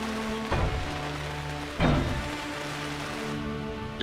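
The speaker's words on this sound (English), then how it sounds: "We are burning in acid rain though." Acid rain in Space Engineers pattering as a continuous hiss over a steady low hum, with a couple of louder bursts and no talk.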